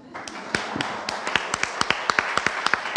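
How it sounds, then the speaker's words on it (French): Audience members at a business talk applaud a participant with scattered, distinct claps that begin sparse and thicken into a loose, uneven rhythm of close, sharp hand claps over a quiet room. "je pense qu'on peut tous applaudir Caroline"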